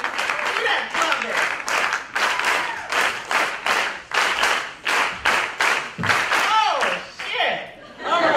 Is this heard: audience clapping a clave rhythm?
yes